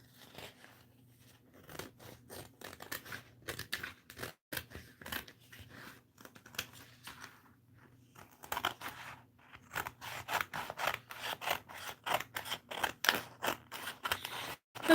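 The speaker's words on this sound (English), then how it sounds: "We're going to cut out this cardinal." Repeated crisp snips of scissors cutting a cardinal shape out of paper, close up, in irregular bursts with short pauses between runs of cuts.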